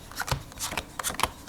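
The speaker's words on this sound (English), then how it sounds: "And now we're going to shuffle the cards back into 5 piles" A deck of playing cards is shuffled up close in a quick series of soft, crisp riffling snaps over about a second and a half.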